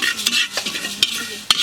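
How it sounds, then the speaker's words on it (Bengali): Coriander seeds fry and sizzle in hot oil in a pan while being stirred, a steady crackling hiss broken by a few sharp scrapes of a spoon against the metal. "ধনেগুলো ভাজি করে নিব"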